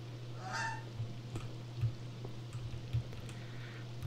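A goose in the video game Backbone gives a few short honks over a low steady hum, fairly quiet, with small knocks scattered between them and no talking.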